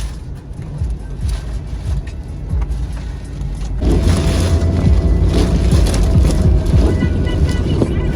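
A vehicle drives on through a wind storm with rain, a steady roar of wind and road rumble that grows louder and denser partway through, with no talk over it.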